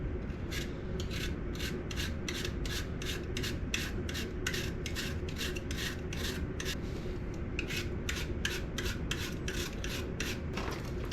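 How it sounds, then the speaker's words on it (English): A hand peeler rasps along an apple's skin in quick, evenly spaced strokes, close and clear, continuing steadily with a brief pause midway and no talking. "take this handy dandy peeler, this handy dandy apple, and make some handy dandy apple slices"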